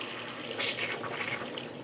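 A kitchen sink tap runs steadily, a close, continuous gush of water filling the basin, with a brief louder splash partway through.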